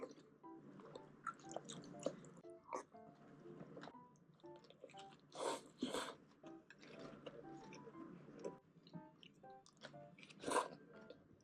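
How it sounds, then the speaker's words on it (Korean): Close, moist chewing and crunching of bibimbap with mixed vegetables such as radish and bracken, repeated bites and squishy mouth sounds throughout with brief louder crunches. "비빔밥은 꼭 씹어 먹어야 돼."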